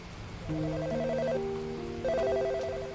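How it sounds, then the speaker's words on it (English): A phone sounds a message alert as a radio drama effect: two short melodic electronic chime phrases over a quiet background hum, with no voices. "His phone buzzed a message from the lab."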